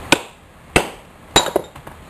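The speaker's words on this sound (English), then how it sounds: "Let's try to hit it with a chisel." A steel chisel strikes a concrete retaining wall stone in sharp, ringing impacts, three main blows spaced by pauses and then a few lighter taps. The strikes are close and loud, with no talking.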